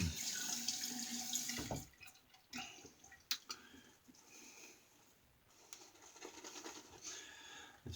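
Tap water running into a sink while a face is wetted before a shave, a soft steady stream at first, then quieter splashing, dripping and hand noises nearby.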